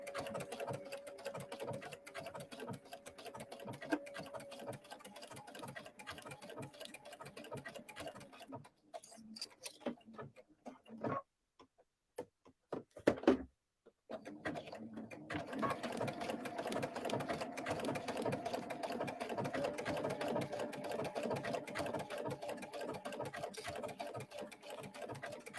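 A sewing machine fitted with a side cutter foot stitches and trims fabric, a steady fast mechanical whir that stops briefly midway with a few clicks, then resumes at an even pace.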